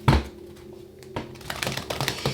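Tarot cards are shuffled in a quick riffling burst, a dense flurry of close papery flicks and taps that builds over the final second or so after a sharp initial knock.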